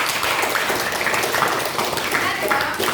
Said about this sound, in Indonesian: Oke, tepuk tangan untuk kelompok 2.